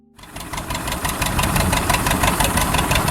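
John Deere Model A tractor engine starting up and settling into a steady, loud, close running rhythm with a pulsing, knocking beat that continues for several seconds.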